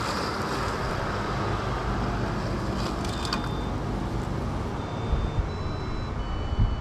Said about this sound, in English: That's why it stopped and made that noise. So it knows there's an object there, basically.